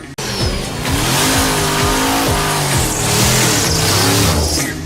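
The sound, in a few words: car tires squeaking and skidding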